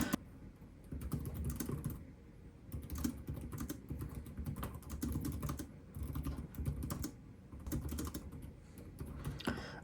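Quiet, brisk typing on a Lenovo ThinkBook 16p laptop keyboard with snappy, deep-travel keys, clicking in uneven bursts and short pauses in a bright room with no talk.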